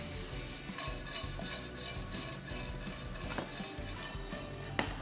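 Crumble stirred with a utensil in a frying pan after a little honey has been added, giving a steady scraping, rustling texture with soft clinks throughout and one sharper click near the end, no voices.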